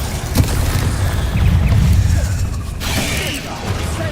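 A Bombarda blast spell in Hogwarts Legacy erupts as a loud rumbling boom with mechanical rattling and debris, followed by a second crackling burst.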